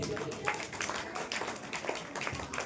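An audience at an annual prize-giving ceremony at a religious school claps for a student who took first position, producing a fairly quiet, dense patter of applause that stays even throughout, with some voices mixed underneath.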